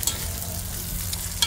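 Onions sizzle and fry in a pan in a brief, close, steady hiss, with a few faint clicks of stirring.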